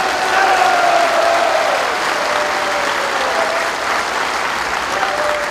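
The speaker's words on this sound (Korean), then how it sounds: "이분들에게 뜨거운 감사의 박수를 부탁드리겠습니다" Hall audience at a national small-business merchants' rally gives warm applause to lawmakers, a dense continuous wash of clapping, loud and steady, with a faint tonal hum running beneath it.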